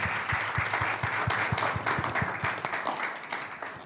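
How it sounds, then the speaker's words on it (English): Audience applause for the panelists at a special event at COP28, a steady, moderate wash of many hands clapping that holds for several seconds and then gently tapers, heard at some distance in a large room. "If you could join me in giving them a round of applause"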